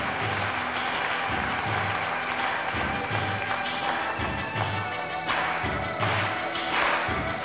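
Studio audience on an Italian TV game show applauds in a steady, loud wash of clapping, with rhythmic thumping music beats pulsing underneath throughout.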